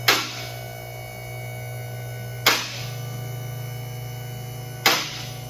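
Vehicle lift lockouts engage with three sharp metallic clacks about two and a half seconds apart, each one crisp and close over a steady electric hum from the lift's motor.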